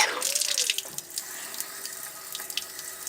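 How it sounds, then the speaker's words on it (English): Tap water runs steadily into a sink during a leak detection demonstration, a close, even hiss of flowing water with a brief splash near the start. "therefore use the water from the tap"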